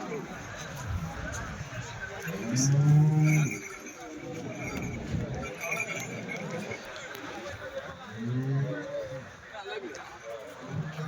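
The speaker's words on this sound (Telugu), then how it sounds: "ఈ వారం సంతలో ఆవులు చూడొచ్చండి," Cows low loudly at a weekly Sunday cattle market in Chintamani, with a few distinct moos rising over a busy crowd hum and background chatter.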